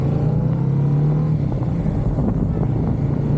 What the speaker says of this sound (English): there's a lot of traffic that gets on and off the 215 right there